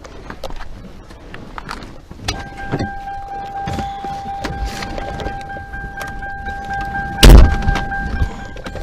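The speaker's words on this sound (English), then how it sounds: "So let's get back in the car and continue our tour." Someone getting back into a car during a cemetery tour, with keys jingling, a sharp door thunk and short rustling handling noises, while a steady two-tone chime rings in the cabin.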